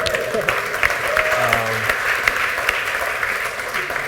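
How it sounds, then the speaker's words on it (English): An audience applauds steadily through the whole stretch, a dense even patter of clapping at moderate loudness with no voices over it. "Give him a round of applause there."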